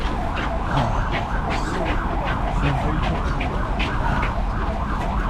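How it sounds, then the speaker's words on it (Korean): An ambulance siren sounds during a rainy city marathon, its wailing, pulsing tone steady throughout and blended with continuous road and crowd noise. "아 구급차까지 있어요"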